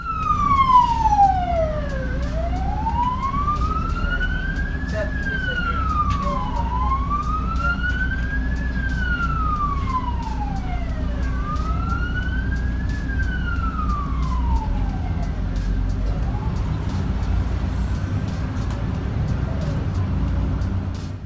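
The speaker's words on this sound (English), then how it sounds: "Here, the ambulance has to move in the lane with the rest of the cars, even though the siren is on." Ambulance siren wails through slow traffic, its rising and falling cycles repeating clearly several times before fading, over a low rumble of surrounding cars.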